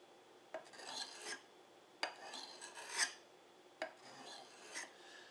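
A knife with a saber grind is drawn across a sharpening stone in separate gritty rasping strokes, about six in steady rhythm, faint and close with no talking.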